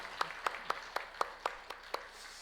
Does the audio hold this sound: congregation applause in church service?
yes